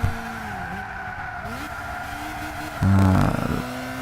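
A Honda CR-X SiR laps a race track, its engine droning steadily from inside the car with pitch rising and dipping through gear and throttle changes, then a louder burst of tire and engine noise near the end.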